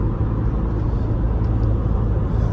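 Steady low engine rumble and road noise from a diesel automatic 4x4 Renault Koleos cruising at about 90 km/h, continuous and even throughout.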